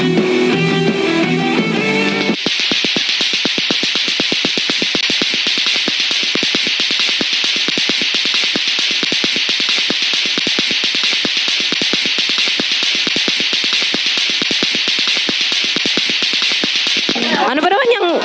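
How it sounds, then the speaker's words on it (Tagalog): Lato-lato clacker toy, a pair of balls on a string, knocks out a fast, steady stream of sharp clacks for about fifteen seconds after a brief stretch of music, loud and close. "Ano ba naman yung ingay ng lato-lato na yan?"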